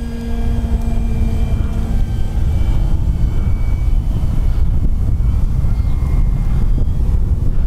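FMS Pitts 1400mm RC aerobatic biplane flying overhead, a steady motor drone with whining tones that fade as it moves away, mixed with loud wind buffeting on the microphone.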